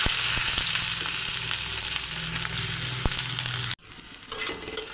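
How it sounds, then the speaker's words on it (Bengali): Chopped onion fries in oil in a pan for a duck egg and tomato bhuna, giving a loud, steady sizzle with stirring that cuts off sharply near the end. "পেঁয়াজ কুচিটা ভাজা হয়েছে"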